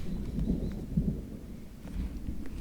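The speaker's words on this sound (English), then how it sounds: "It's been a lot of thunder." Thunder on the Pacific Crest Trail rolls as a faint, distant low rumble with a couple of soft deeper thumps, set against quiet open-air background.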